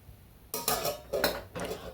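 Pre-cooked rice mixed into a pan over low heat for dal khichdi, three short bursts of scraping and clinking of a utensil against the pan, separated by quiet pauses.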